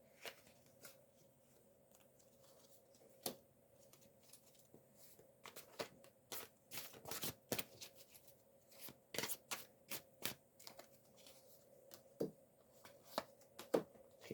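Tarot cards are shuffled and handled by hand in a quiet room, giving bursts of crisp riffling and soft slaps at an irregular rhythm, close and fairly faint.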